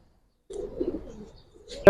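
Bagha and silver giribaz pigeons give a short, soft, low coo after a moment of silence, followed by a brief sharper sound right at the end.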